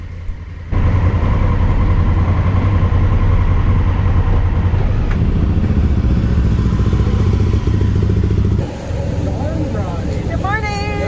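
Motorcycle engine idling and rumbling steadily at the Brentwood Bay ferry on Saanich Inlet, loud and close, with a shift in tone partway through and faint chirpy sounds near the end.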